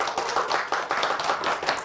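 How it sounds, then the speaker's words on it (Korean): A short burst of clapping at a neighbourhood community general meeting, several hands beating out quick, fairly even claps close by. "큰 박수로 맞이해 주시기 바랍니다."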